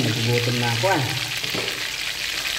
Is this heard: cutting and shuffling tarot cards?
no